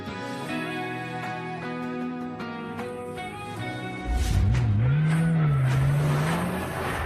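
A car engine starts and revs up as the vehicle drives off, rising loudly midway after a stretch of background music, then sweeping up and down in pitch as it accelerates away.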